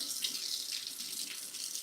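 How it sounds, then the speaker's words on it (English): Hot water pours steadily from a sink tap into a sink, a continuous close hiss and splash with no pauses. "I'm just going to let this get a little hot, my sink water."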